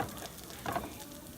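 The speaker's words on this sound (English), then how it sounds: "Now that I got that butter melted, I'm gonna go ahead and add my garlic" Garlic sizzling in melted butter in a pan, a soft, steady frying hiss with a brief swell midway, quiet and close with no talking.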